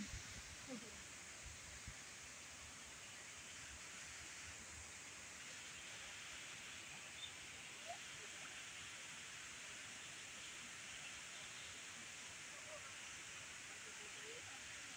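Water trickles and drips into a koi and turtle pond, a soft, continuous splashing hiss with a few faint, scattered drops.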